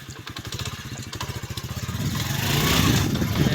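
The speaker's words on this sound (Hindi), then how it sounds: "मोटरसाइकिल चल गया है" A motorcycle engine fires up with a rapid, pulsing putter that smooths into a louder, steady running drone close by.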